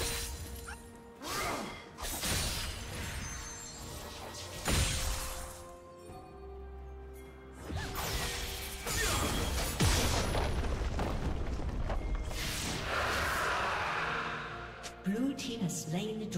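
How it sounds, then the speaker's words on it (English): A turret in League of Legends is destroyed with a loud crash and booming shatter, among other game effects and a low musical bed, with several sharp impacts spread across the stretch. "Red team's turret has been destroyed."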